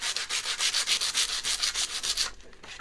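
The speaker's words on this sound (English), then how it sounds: "So I'm going to see if that'll sand off." A sheet of sandpaper scrubs quickly back and forth over the scorched wood of a ukulele, a close rhythmic rasping of about a dozen strokes that then stops.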